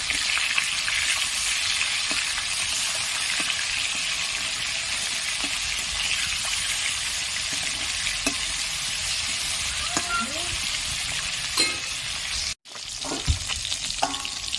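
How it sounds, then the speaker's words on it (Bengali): Pieces of rui fish fry in hot oil, producing a loud, constant sizzle with occasional light clinks of stirring, one brief cut-out near the end, and no speech. "দেখুন বন্ধুরা, মাছগুলো খুব সুন্দর ফুটছে।"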